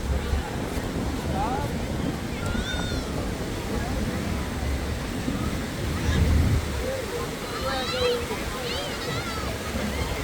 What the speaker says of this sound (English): The waves are not so big